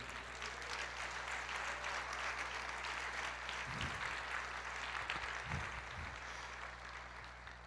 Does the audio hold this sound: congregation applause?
yes